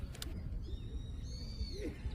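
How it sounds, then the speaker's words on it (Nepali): Birds call faintly outdoors on a spring day, with a few thin high whistles and chirps drifting over a soft, steady background hush. "वरपर यो चराचुरुङ्गीको आवाजले झन् छुट्टै आनन्द मिल्छ।"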